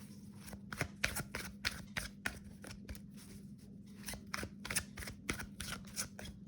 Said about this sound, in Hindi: लेकिन एक बार शफल कर लेते हैं, देन देखते हैं क्या आता है